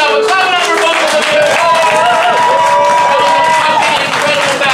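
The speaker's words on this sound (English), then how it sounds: "Clap it up for both of them." A crowd at a New York rap battle show claps and cheers loudly in a continuous wash, with shouting voices and a talker over the noise.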